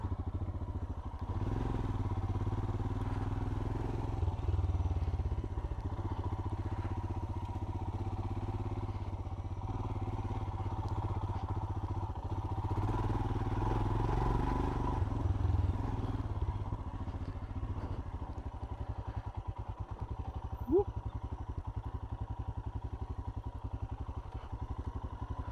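A 2020 Royal Enfield Himalayan motorcycle rides off-road with a continuous low engine drone and rumble, overlaid with steady rushing noise and occasional clatters and thuds from the rough terrain.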